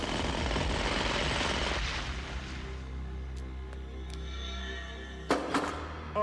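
A cartoon henchman runs a jackhammer during a bank vault robbery in Empire City, a loud rapid pounding rattle that drops after a couple of seconds into a low droning hum broken by a few sharp knocks.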